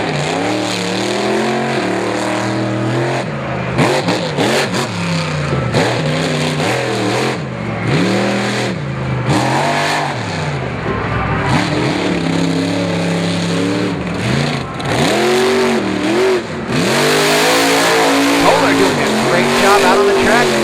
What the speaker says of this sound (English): A little muddy donut right there